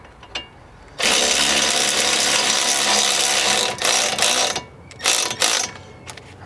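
A ratchet tightens a castle nut on the outer tie rod of a 2001 Nissan Maxima, giving a close, loud, continuous grinding whir for several seconds and then a few shorter bursts.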